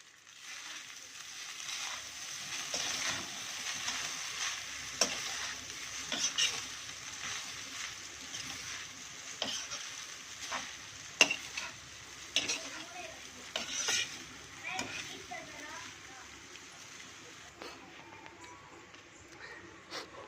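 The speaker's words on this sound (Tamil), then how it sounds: "சாதம் ஆறினதுக்கப்புறம் இது மாதிரி தாளித்து வச்சதில் போட்டு அப்படியே நல்லா மேலாக்க கலரிக்கலாம்" A spoon stirs cooled rice into a coconut tempering for South Indian coconut rice, giving faint, soft scraping and shuffling against a pan with light clinks, continuing quietly throughout.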